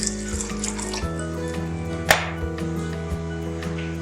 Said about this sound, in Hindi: दाल बनाने के लिए सबसे पहले हम पानी शामिल करेंगे कुकर हांडी में।